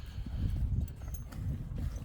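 A horse wearing blinkers walks close by, hooves clip-clopping steadily over low background rumble for a couple of seconds.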